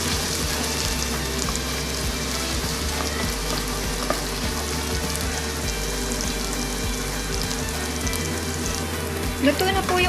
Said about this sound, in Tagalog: Haluin po natin. Tapos pag luto na po ang sibuyas tsaka bawang